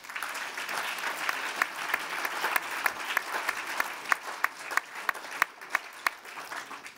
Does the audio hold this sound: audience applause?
yes